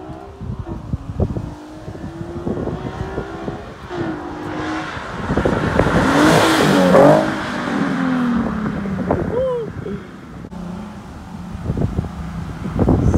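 A 2015 Nissan 370Z passes by, its engine swelling to a loud peak midway and then fading. Heavy wind buffets the microphone throughout.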